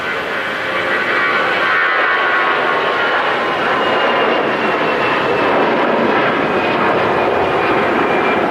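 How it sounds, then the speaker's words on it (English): A Swiss Airbus A320 jet takes off from Zurich Airport, its engines producing a loud, steady broadband roar that stays constant throughout, heard from fairly close with no talking over it. "That was another super exciting Swiss A320"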